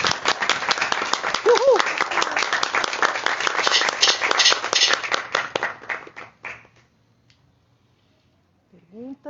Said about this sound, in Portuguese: Uma salva de palmas antes,